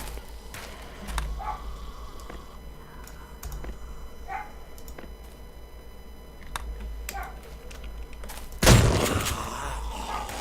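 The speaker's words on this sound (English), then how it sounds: "Shotgun is so effective." A shotgun fires in the survival game 7 Days to Die, one sharp loud blast near the end following scattered clicks, thuds and keyboard tapping over a low hum.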